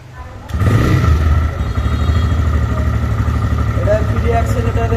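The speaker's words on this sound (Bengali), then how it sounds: "এবার আমরা স্টার্ট দিয়ে গাড়ির সাউন্ডটা শুনি" A 2022 TVS Raider 125 cc motorcycle in showroom condition, 15,471 km on the meter, starts about half a second in and settles into a steady, close, loud idle with a throbbing low rumble.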